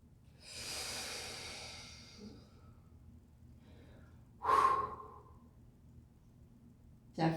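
Slow breathing during a guided foam roller and ball psoas self-release, with a long airy exhale at the start, then quiet, followed by a sharper snorting breath and a brief gasp near the end.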